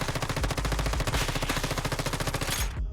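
An MP7 submachine gun fires in the video game Once Human in one long unbroken burst of rapid, evenly spaced shots, loud and close, ending abruptly, with no talking.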